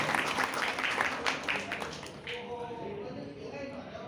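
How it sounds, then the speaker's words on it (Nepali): An audience at a temple committee gathering claps to welcome a guest: a dense wash of applause that thins out and fades after about two seconds, with voices talking through it. "ताली बजाएर उहाँको स्वागत गरिदिनु होला"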